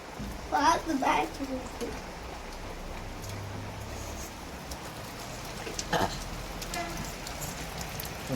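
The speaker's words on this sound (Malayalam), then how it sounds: "മഴ കുറച്ച് കൂടിയിട്ടുണ്ട്" Heavy rain pours down steadily during Cyclone Montha, a dense even hiss of drops on surfaces, with a few brief voices talking in the foreground.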